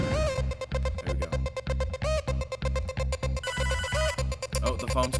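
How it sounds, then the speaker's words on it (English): A telephone rings in the video game Hotline Miami, a repeated electronic trill that pulses in a quick, steady rhythm, loud and up front over the game's music. "Oh, the phone's calling."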